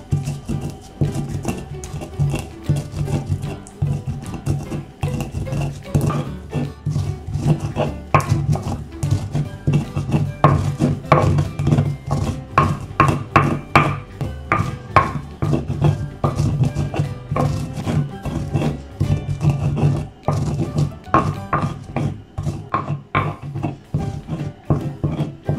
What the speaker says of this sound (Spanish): en el molcajete todas las especias. Vamos a moler muy bien.